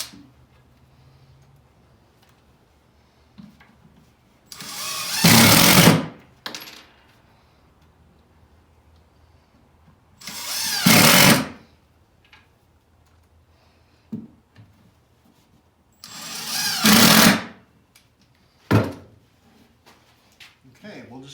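A power drill drives pre-drilled drywall screws into a wooden coffin coffee table in three loud whirring bursts of a second or so, separated by quiet gaps with small knocks.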